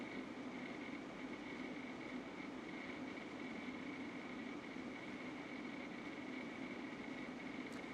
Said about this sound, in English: I want you guys to hear that rattling sound.